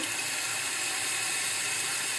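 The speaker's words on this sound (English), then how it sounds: "We're going to add just a little bit of water" Water trickles steadily into a dab of foaming cleanser during a cleaning routine, a soft continuous wash of running-water hiss with no pauses and no talk.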